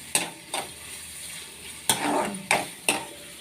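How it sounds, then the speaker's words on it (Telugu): Chicken pieces fry in a pan and are stirred now and then, with soft sizzling broken by several scraping, clattering strokes, close and fairly quiet. "ఇవి గోల్డెన్ కలర్ వచ్చేదాకా ఫ్రై చేసుకోవాలి."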